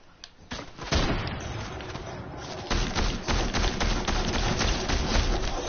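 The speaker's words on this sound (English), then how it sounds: "someone's shooting me" Rapid bursts of gunfire from the video game Fortnite, dense and continuous after a brief quieter opening, with a louder barrage kicking in partway through and running to the end.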